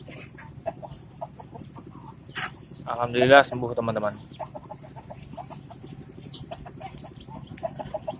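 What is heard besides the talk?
chickens clucking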